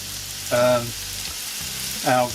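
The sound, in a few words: tomato puree sizzling while cooking paella on a kamado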